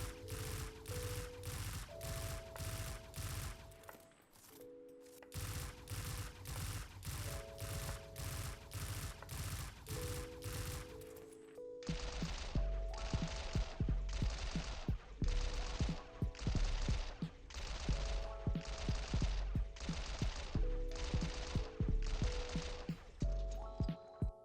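A Vigilant Swing pulse rifle in Destiny 2 on PC fires in rhythmic, evenly spaced bursts, loud and close with no voice, the shots pausing briefly between volleys and then continuing in a louder, heavier stretch.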